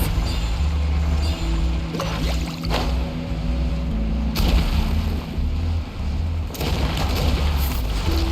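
Heavy rocks crash down inside an unstable cave in the video game Genshin Impact, with booming impacts and rumbling debris landing in several loud bursts over a low, continuous drone.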